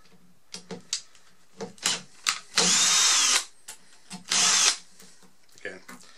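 A power driver backs out the chassis screws of a Marshall JVM guitar amp: two sustained close whirring bursts, each about a second long, among scattered clicks and handling knocks.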